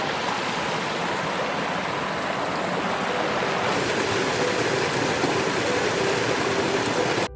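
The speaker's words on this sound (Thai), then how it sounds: "เสียงน้ำตก" Waterfall at a scenic natural viewpoint, a dense unbroken roar of rushing water, loud and close, holding steady for several seconds before cutting off abruptly, with no voices.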